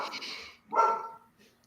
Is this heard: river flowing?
no